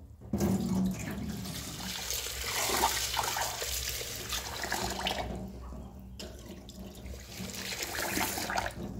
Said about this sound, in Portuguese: Então aqui o segredo é lavar bem, até essa água ficar transparente.